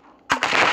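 Gunfire in the Melon Playground video game, a sharp close shot cracking out followed by a dense burst of rapid fire that keeps going, loud and with no talk over it.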